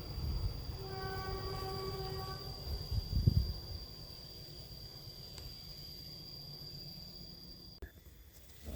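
A train horn sounds a long steady blast as the Argo Semeru passenger train rumbles past nearby at Tumiyang, Banyumas, followed by the fading roll of wheels on the track.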